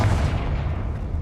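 A Confringo explosive spell cast in the Hogwarts Legacy video game lands as a single heavy, booming blast up close. It fades into a low rumble within about a second.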